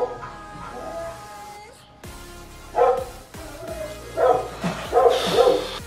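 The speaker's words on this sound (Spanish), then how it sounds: "¿Pero qué coño está pasando con los perros? ¡Qué barbaridad! ¿Me van a tirar la verja abajo?" Several dogs bark and yip insistently at a gate, in bursts that build in loudness and come close, with whimpering mixed in and steady background noise underneath.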